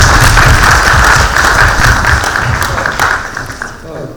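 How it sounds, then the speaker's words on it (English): A talk show audience gives a round of applause, a dense and loud wash of clapping that holds steady for several seconds before thinning out toward the end, with some voices mixed in. "we should give a round of applause."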